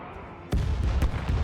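Starship weapons fire in the space game Star Trek: Resurgence: a sudden loud blast kicks off a burst of rapid booming shots and rumbling impacts, with a voice briefly audible.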